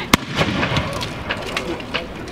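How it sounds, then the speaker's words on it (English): A medieval hand gun fires at an outdoor demonstration: one sharp, loud report near the start, followed by scattered crackles and thuds from farther off over a noisy background. "our gunners get a second shot off?"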